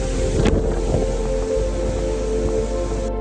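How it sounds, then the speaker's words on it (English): Loud cyclone winds gusting to about 120 km/h roar with heavy rain, a dense, constant storm rush and rumble, buffeting the microphone with no voices. "I've never heard wind so loud."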